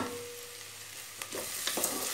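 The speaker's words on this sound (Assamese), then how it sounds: "এতিয়া এইখিনি মই গোল্ডেন ব্ৰাউন হোৱালৈকে লাইট গোল্ডেন ব্ৰাউন হোৱালৈকে ভাজিম।" Food frying in hot oil in a home kitchen until light golden brown gives a soft, continuous sizzle with a few light stirring knocks near the end.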